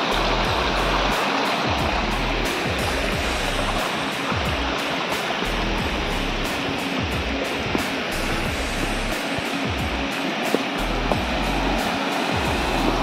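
Waterfall on Nandi Hills in Karnataka, a steady loud rushing roar of falling water that fills the whole stretch without pause, close by and heard alone.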